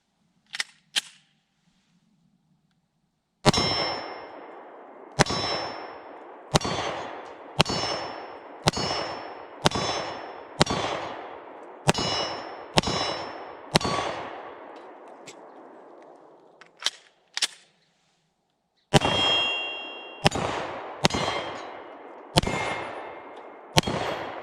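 A Smith & Wesson M2.0 10mm pistol firing Blazer Brass 180 rounds with iron sights, each shot followed by a bright metallic ring from steel targets. Two early shots give way to a steady string of evenly spaced reports, a pause, then another quick string.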